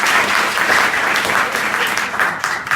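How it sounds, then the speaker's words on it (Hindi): A class of students at Prayag Inter College claps loudly and continuously, a dense, energetic round of applause filling the room for the whole stretch. "फिर से जोर से ताली बजाओ।"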